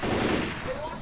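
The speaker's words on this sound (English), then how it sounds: "Ooh, grenade launcher. Fire! Fire!" Grenade launcher fire in the Left 4 Dead 2 zombie shooter, a short burst of dense, loud gunfire and blast noise filling the whole second.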